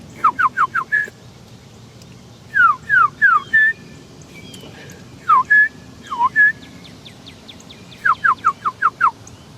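Bright chirping calls in quick bursts of three to five notes, with occasional sustained whistles, repeating clearly over a low, steady background.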